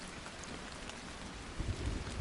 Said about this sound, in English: Raindrops are falling on treetops.